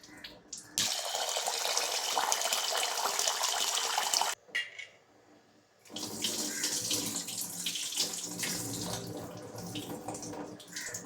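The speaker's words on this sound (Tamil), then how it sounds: "உளுந்த நல்லா ஒரு 2 3 தண்ணியில் நல்லா அலசி எடுத்துக்கிறேன்" Urad dal is rinsed in water under a kitchen tap. Water gushes steadily with swishing and sloshing, pauses briefly, then runs again, with no voices.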